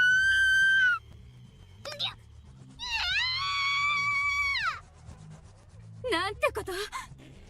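A girl's long, wavering screams of agony in the ManoSaba video game, in several loud outbursts with gaps between them, over a low rumbling bed; no distinct shattering stands out.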